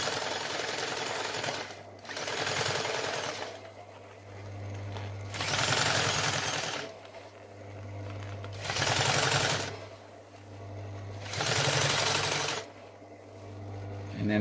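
A sewing machine stitches car interior material in several long runs, a loud, close, steady mechanical whir that starts and stops in regular bursts with short pauses between them.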